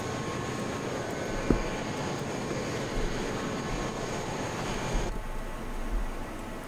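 A steady, droning airplane engine hum from a flight simulator game during level cruise, a constant broad wash of noise with a couple of faint thumps.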